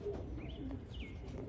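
Pigeons let out soft rising coos outdoors, a few gentle calls layered over low rumbling background noise.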